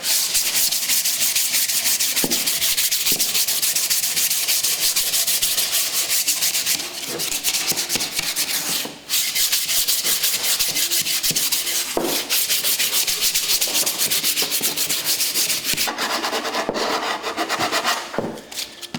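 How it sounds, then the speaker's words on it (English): Steady, close scratchy rasping of coarse sandpaper rubbed back and forth on a wooden axe handle, continuous and loud with brief pauses. "Move on to the coarse sandpaper."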